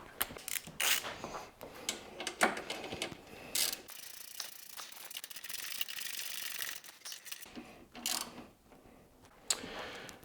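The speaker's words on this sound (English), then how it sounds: "so we use a ratchet on that one." Rapid clicking of a ratchet wrench tightening bolts at the pillion peg mounts of a factory pannier rack on a Yamaha T7 motorcycle, several bursts of close, crisp ratcheting separated by short pauses.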